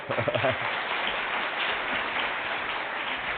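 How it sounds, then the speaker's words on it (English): Audience applause at a physics lecture after an apple-floating demonstration, continuous clapping that follows a brief moment of speech at the start and carries on steadily. "Excellent, thank you, an applause."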